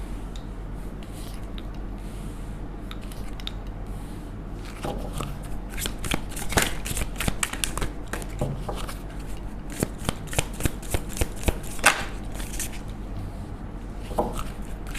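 Tarot cards are shuffled by hand, steady quick riffling and slapping that grows busier and louder partway through, with no talk over it.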